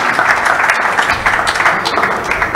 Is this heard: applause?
yes